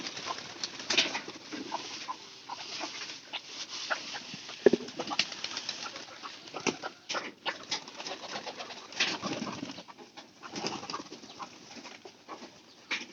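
Pigeons coo softly while feeding on maize grains, with low, repeated calls and faint pecking and wing shuffles close by in a quiet setting.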